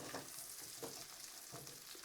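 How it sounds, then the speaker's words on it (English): Tinned potatoes browning in a pan of garlic butter with rosemary, a quiet continuous frying sizzle with faint stirring scrapes, heard alone and fairly soft. "Hear that sizzling away?"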